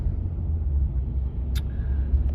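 A car cruising along a road, heard from inside as a steady low engine and tyre rumble with a brief high squeak partway through, continuous and fairly close, no talking.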